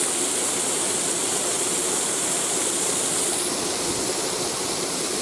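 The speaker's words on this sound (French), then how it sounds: "au-dessus d'une petite cascade ravissante" A small waterfall on a hike in Valais roars in a dense, constant rush of falling water, close and steady throughout with no voices.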